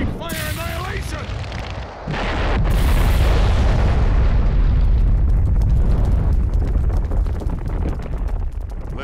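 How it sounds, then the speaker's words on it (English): A fire style jutsu in Naruto Shippuden: Ultimate Ninja Storm 3 erupts as a big fire annihilation, a loud sustained roaring blast of flame that swells around two seconds and rumbles on, with a character's voice shouting near the start. "Fire style, big fire annihilation!"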